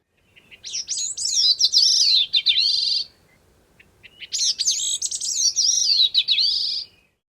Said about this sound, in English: The bicknell's thrush, which breeds in a small area of the northern Appalachians, is in all respects similar to the gray-cheeked, but its song rises in pitch at the end.